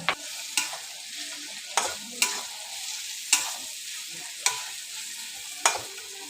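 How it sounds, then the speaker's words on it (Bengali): Onion frying in a pan with ground garam masala makes a low, steady sizzle, punctuated by sharp periodic spatula knocks and scrapes roughly every second. "পেঁয়াজটা ভাজা হচ্ছে।"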